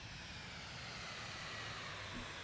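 A flight simulator video game aircraft engine running after a crash landing with the parachute deployed gives a steady, faint, broadband roar and hiss that holds unchanged throughout, with no talking.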